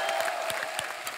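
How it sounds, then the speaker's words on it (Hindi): Studio audience on a Hindi comedy talk show bursts into brief, loud applause, a dense wash of many hands clapping with a few sharper claps standing out, heard alone without talk. "जोरदार तालियां।"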